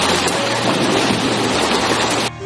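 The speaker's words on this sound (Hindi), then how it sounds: "तभी बहुत तेज बारिश शुरू हो गई।" Heavy rain pouring down in a forest, a loud, dense, steady hiss that stops abruptly just before the end.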